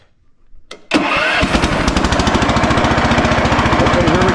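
A Lull forklift with no muffler cranks and then fires into a loud, raw, rapidly pulsing engine clatter that runs close and harsh after a brief quiet start.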